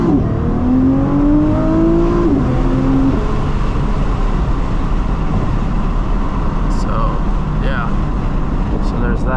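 A 2024 Nissan GT-R accelerates hard in a dense, rising engine roar heard from inside the cabin, loud and continuous with wind rush and a faint whine over it.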